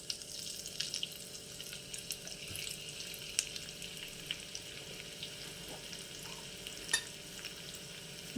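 Cumin seeds and chopped ginger frying in hot ghee for a Bengali moong dal, a soft steady sizzle with faint stirring clicks, fairly quiet and without talk.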